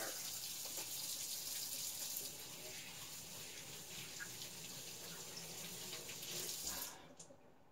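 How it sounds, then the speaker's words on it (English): Running tap water splashes steadily into a sink while hands are washed at a kitchen counter during home canning, a continuous close rush that fades as the tap is shut off near the end. "I'm just going to stop and wash my hands."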